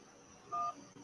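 A single brief tone from a phone line sounds during a call-in show, a faint steady beep lasting a fraction of a second over low background hiss.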